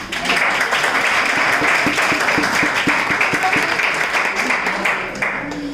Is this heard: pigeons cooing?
no